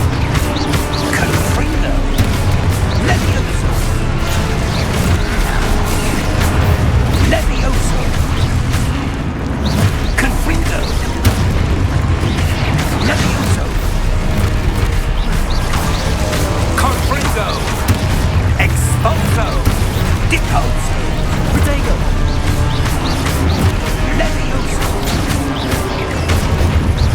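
Repeated booming spell blasts from Hogwarts Legacy combat, with heavy explosive bursts and rumbling impacts throughout, dense and loud over a busy battle mix with voices present.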